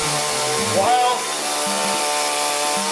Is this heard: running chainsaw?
yes